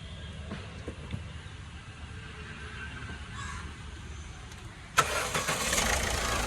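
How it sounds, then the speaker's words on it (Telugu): A 2015 Ford EcoSport engine turns over on a single crank and catches, then settles into a steady running hum after a quiet stretch of faint background noise. "సింగిల్ సెల్ఫ్ అయితే బండి స్టార్ట్ అవుతుందండి."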